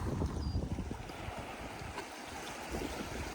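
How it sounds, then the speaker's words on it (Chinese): Howling wind over a beach with reeds and sea waves breaking one after another, a steady broad wash of noise filling the whole clip with no voices. "芦苇丛，呼啸的风，一波一波的海浪声"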